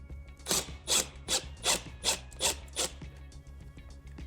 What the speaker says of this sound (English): use your Phillips head bit or Phillips head screwdriver to screw the screw into place